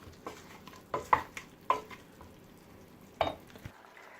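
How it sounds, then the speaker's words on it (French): Lamb chops being stirred in marinade in a cooking pot, with a few sharp spoon-on-pot scrapes and knocks spread irregularly over a low background, close and moderately loud, with no talking. "Je vais bien mélanger."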